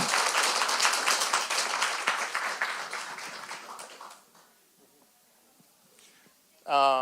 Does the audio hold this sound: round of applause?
yes